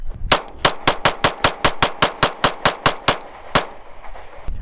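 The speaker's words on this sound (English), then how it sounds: "15 round mag dump on target and see how it feels" Rapid string of about fifteen pistol shots from a PSA Dagger fed by a Glock magazine, loud, close and sharp, fired in an even fast rhythm with a brief pause before the final round.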